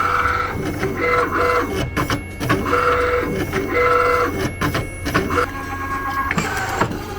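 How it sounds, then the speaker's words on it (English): Close mechanical whirring and grinding from a Primera LX610 label printer motor pulling the label back in to cut it, shifting pitch in several stretches, with a few brief clicks. "now it's printing. It's really noisy."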